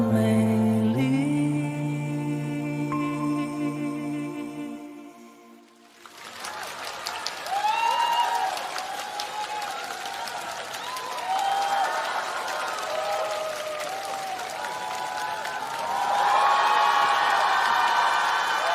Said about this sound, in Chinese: 我们用热情掌声送给张信哲，